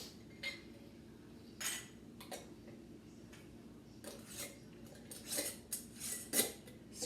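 Metal canning lids are screwed onto glass jars of homemade baked beans in a kitchen, giving a quiet series of scattered clinks and scraping twists.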